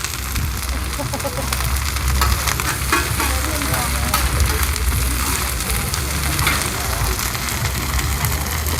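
Thai oyster omelette (hoi tod) batter stir-fried with egg in a big pan, a loud, dense, continuous sizzle with scraping and clattering of the spatula, and voices talking faintly underneath.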